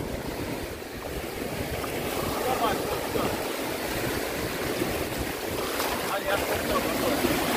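A kayak out on the sea, with water washing and lapping around the hull under heavy wind rumble on the microphone, a constant, fairly close wash without clear breaks.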